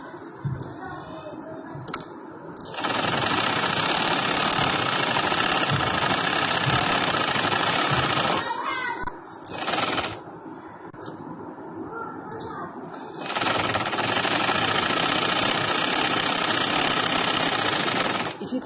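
A sewing machine stitches a cotton lawn salwar in two long, loud, continuous runs, nearby, separated by a short pause with brief stop-start whirring.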